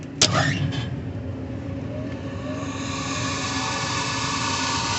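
A small combustion inducer blower motor on an Aaon rooftop HVAC unit clicks on and spins up into a steady, fairly loud whir that builds slightly and keeps running.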